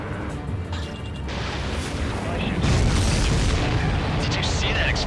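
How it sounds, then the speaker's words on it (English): A supply ship explodes in Ace Combat 7: Skies Unknown, giving a sustained, rumbling blast that swells partway through and rolls on loudly amid jet and battle noise. "Did you see that explosion?"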